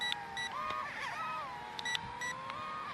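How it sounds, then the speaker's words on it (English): Short electronic beeps repeat in pairs from an LF606 foldable mini drone before a flip, over the steady whine of its small motors that rise and fall in pitch, close by. "So one press and it's beeping and it does it."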